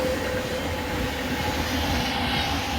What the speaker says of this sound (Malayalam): ഹസ്രത്ത് നിസാമുദ്ദീൻ തിരുവനന്തപുരം വരെ പോകുന്ന രാജധാനി എക്സ്പ്രസ്സാണ് ഈ പ്ലാറ്റ്ഫോം നമ്പർ 2 കൂടെ സ്കിപ്പ് ചെയ്യുന്നത്.